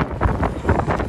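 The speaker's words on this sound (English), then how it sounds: "Very windy." Gusty wind buffets the microphone in low, rumbling pulses, loud and close with no voices.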